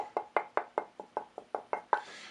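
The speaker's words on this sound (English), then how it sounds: "This piece obviously doesn't have such a great tap tone as some other woods I've demonstrated." A flat-sawn walnut board with knots, tapped by hand to test its tone: about ten evenly spaced dull knocks, each decaying quickly, close and fairly quiet, with no talk.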